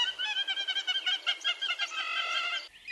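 A hammerkop, the Southern African wading bird, gives a rapid run of nasal, pulsing notes for nearly three seconds, a quick rhythmic chatter heard close and alone before it cuts off.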